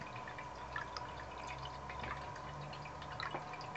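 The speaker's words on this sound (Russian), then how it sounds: "Как водопад, что ли, течет и журчит?" Water from a pump-driven fountain trickles and splashes in a steady, continuous babble with scattered small drips, moderately close and fairly quiet, with no talk over it.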